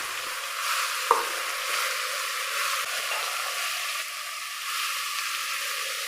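Tomato, onion, coriander and mint leaves sauté in a pan for chicken biryani, giving a steady close sizzle with light stirring scrapes and one sharp utensil clink early on.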